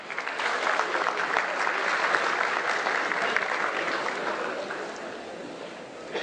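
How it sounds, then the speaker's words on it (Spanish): Sustained audience applause at an international workshop on market-power regulation, welcoming Dr. Celina Escolán; dense, steady clapping from a full room that holds for about six seconds before easing slightly. "Y vamos con un fuerte aplauso a la doctora Celina Escolán"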